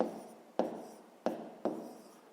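Handwriting a maths answer in a 5th-grade exercise: soft, close scratching of a pen or pencil on paper, with a few sharp taps at regular intervals between stretches of quiet stroking.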